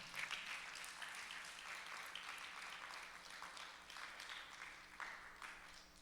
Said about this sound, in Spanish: Un fuerte aplauso para su Señor